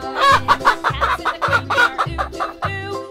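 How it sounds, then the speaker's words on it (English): Chicken clucking in a children's farm-animal sound sequence, with a steady run of about five or six short, clipped clucks at an even pace, close and loud with no voices. "Chicken."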